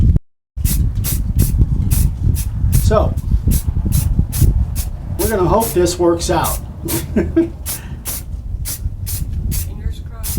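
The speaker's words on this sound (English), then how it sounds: "I can use spray paint" Spray paint hissing from an aerosol can onto a carved wood and resin sign: repeated short, sharp bursts of hiss in a steady rhythm, close and loud, with someone talking over part of it.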